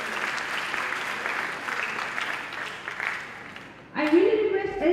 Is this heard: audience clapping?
yes